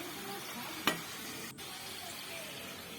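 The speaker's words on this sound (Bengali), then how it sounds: "উল্টে পাল্টে ভেজে নেব।" Sweet potato pitha fry in a pan with a faint, even sizzle and a single sharp click early on, no voices present.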